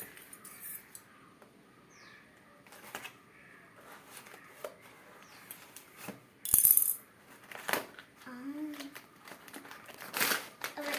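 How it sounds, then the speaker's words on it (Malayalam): Skipping rope being unboxed, with sporadic crinkles of plastic packaging and soft handling knocks, close but intermittent, with speech in between and a few faint bird calls outside. "അപ്പോൾ നമുക്കിതൊന്ന് അൺബോക്സ് ചെയ്ത് നോക്കാം"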